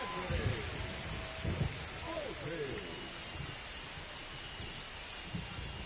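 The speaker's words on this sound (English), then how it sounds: "Just heard thunder." Rain and rolling thunder from the ambient weather in MLB The Show 25 during a Yankees franchise game, a steady hiss of rainfall with low rumbles throughout, with a commentator's voice over it.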